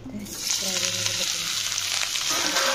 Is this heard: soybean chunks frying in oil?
yes